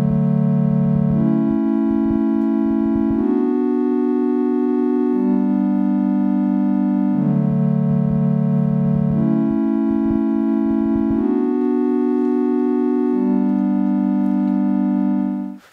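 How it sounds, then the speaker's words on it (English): Common pop music chord progression played on a smooth synth, sustained chords shifting every couple of seconds in a repeating four-chord loop, loud and steady with no talking. "this chord progression I take, which is one that's used most in pop music"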